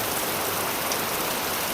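Wind-driven rain beating down steadily and close, a dense even hiss with no voices, as if spraying onto a sheet-metal roof during a storm.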